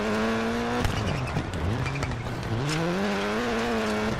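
A rally car in the DiRT 4 racing game, its engine revving and dropping as it crashes and rolls onto its roof, with tire noise and impacts, loud and continuous.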